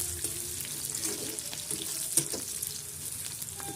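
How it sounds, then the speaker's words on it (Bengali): Chopped onion fries in hot oil, a soft, continuous sizzle with scattered crackles and a few light clinks, fairly quiet and close, with no one talking. "পেঁয়াজ কুচি দিয়ে দিয়েছি আমি তেলের মধ্যে"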